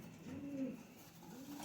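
Khatang pigeons, a flying breed, give two soft rolling coos close by with no talk.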